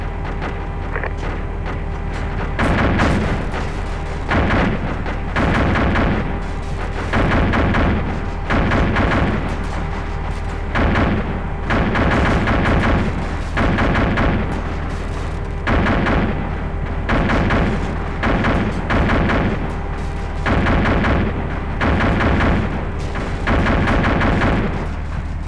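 Platoon gunfire and artillery in the Arma 2 video game: dense, rapid bursts of rifle and machine-gun fire with heavy booming thuds, loud and sustained throughout.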